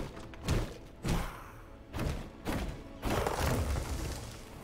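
Structures being smashed in V Rising: a run of heavy thuds and crashing impacts, about six hits spaced roughly half a second to a second apart, the later ones merging into a longer crumbling rumble.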